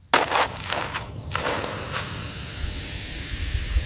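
Flatbread and octopus sizzle over open-fire embers outdoors, a steady crackling hiss that holds evenly with a few sharper spits near the start, close and moderately loud, with no talk.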